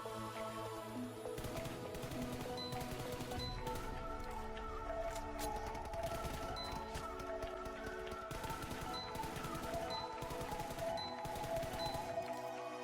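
Rapid automatic gunfire at the shooting range in the mobile game PUBG Mobile, a dense continuous stream of shots throughout, loud and close, with faint metallic pings scattered over it and no talking.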